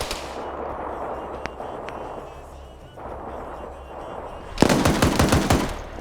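A .50 cal machine gun fires in a modern military video game: a loud, rapid burst of heavy shots late in the clip, following a steady background of distant battle rumble with a couple of isolated sharp reports.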